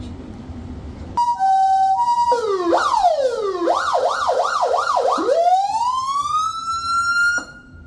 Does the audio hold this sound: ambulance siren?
yes